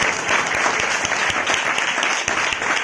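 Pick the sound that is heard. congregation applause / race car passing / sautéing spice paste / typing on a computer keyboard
congregation applause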